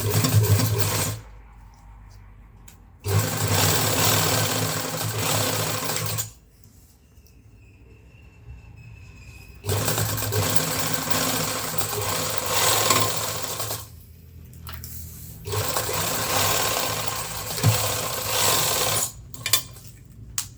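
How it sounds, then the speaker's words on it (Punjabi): A sewing machine stitches a zipper onto a school coat in several separate runs of a few seconds each, with quiet pauses between bursts of steady mechanical whirring close by. "ਇਸ ਤਰੀਕੇ ਦੇ ਨਾਲ ਆਪਾਂ ਹੌਲੀ ਹੌਲੀ ਸਲਾਈ ਪ੍ਰੋਪਰ ਲਗਾਉਣੀ ਆ"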